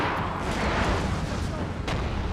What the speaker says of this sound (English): Here comes their artillery.